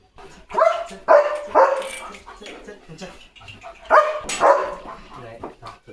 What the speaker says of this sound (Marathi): त्यांना भुंकतोय तो